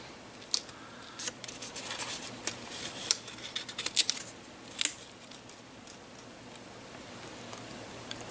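Scissors snipping score tape during a paper craft: a series of faint, quick clicks and snips at close range, alone in a quiet room.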